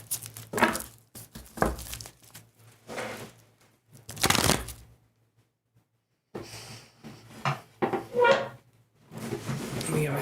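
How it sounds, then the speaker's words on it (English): Tarot cards are shuffled in several short papery bursts of riffling and slapping, close and fairly loud, with quiet gaps between them. "Let's do another couple shuffles here."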